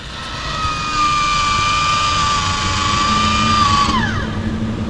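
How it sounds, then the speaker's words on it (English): A MaxxAir roof vent fan runs inside a Sprinter T1n camper van conversion, giving a steady, close whirring drone with a thin tonal whine that dips in pitch near the end. "And then we've got our max air fan here."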